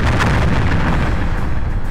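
A loud, dense roar of bombs exploding in Garry's Mod, a continuous booming rumble that fills the whole stretch and slowly tapers, with no voices.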